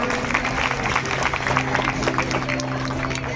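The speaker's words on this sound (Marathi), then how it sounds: "टाळ्या वाजवा आनंद वाटेल मुलांना" Audience applause at a school prize-giving, a steady wash of clapping from a crowd that runs without a break for the whole stretch, with a faint hum underneath.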